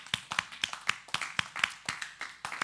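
A church congregation gives a clap offering while ushers come forward, a steady run of sharp, separate handclaps roughly every quarter second, moderately close with no talking over it.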